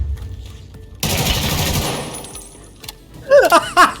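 Rapid automatic gunfire in the shooter game Raid, a loud dense burst that runs for about two seconds and then fades, followed by a few sharp, ringing impact or mechanical sounds near the end.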